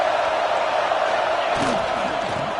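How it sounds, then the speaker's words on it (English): A stadium crowd at an American football game gives off a steady, loud roar that holds throughout, swelling with a few sharper shouts near the end. "Listen to the crowd energy here in the early going."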